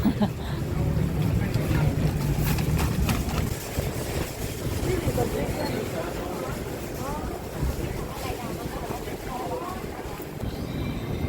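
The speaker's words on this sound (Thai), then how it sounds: "ลมก็แรงด้วยอ่ะ" Strong wind buffets the microphone with a low, rumbling roar, while people talk and a busy outdoor street market background in Bangkok's Sampeng and Yaowarat area carries on underneath.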